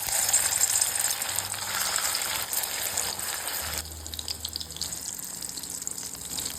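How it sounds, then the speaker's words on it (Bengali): Marinated prawn fritters dropped into hot oil, giving a steady, fairly quiet hiss and bubbling sizzle that continues throughout, alone without talk. "তেলটা গরম হয়ে গেছে, এই ম্যারিনেট করা চিংড়ি মাছগুলো এখন দিয়ে দিচ্ছি।"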